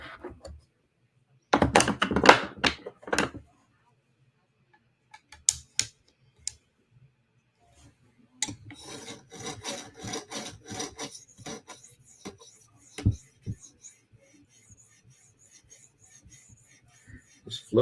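A PM2 tanto knife scrapes across an 8,000 grit stone in close, crisp strokes, with a dense burst of rubbing early on and then longer, softer stretches of sharpening broken by brief silent gaps.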